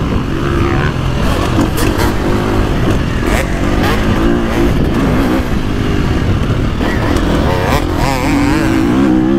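A 2025 KTM 350XCF dirt bike rips around a soft, choppy motocross track, its engine loud and close throughout, revving and shifting continuously with no pauses.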